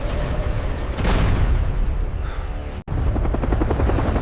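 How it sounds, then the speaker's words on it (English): Military helicopters arriving over a city under attack, a loud continuous rotor roar with a deep rumbling low end and a heavy thumping pulse, a whooshing swell partway through, and a brief dropout before the roar resumes. "Within minutes, military helicopters arrived."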